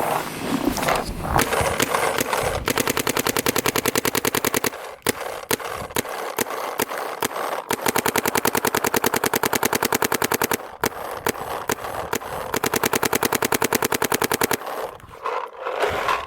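Paintball marker firing in rapid, continuous bursts through a carbon barrel fitted with a Silencio tip, a dense rattling stream of loud shots broken by brief pauses, with no talk over it.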